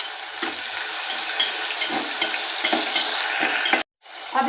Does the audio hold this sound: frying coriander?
yes